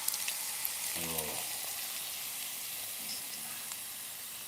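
Steady sizzling of food frying in a pan, a constant hiss with faint crackles, close by and fairly quiet.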